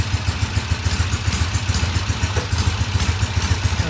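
A vintage British motorcycle on a test ride runs with a rapid, pulsing engine beat and mechanical clatter, loud and close, with a steady throbbing rhythm throughout.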